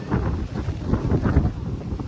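Strong gusting wind roars and buffets the microphone in a continuous low rumble on Girnar mountain by the ropeway station, rising and falling without a break.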